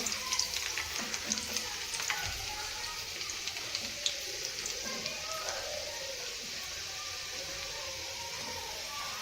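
Garlic cloves frying in hot oil for a spinach dal, a soft, steady crackling sizzle with small pops early on that settles into an even hiss, fairly quiet and with no one speaking.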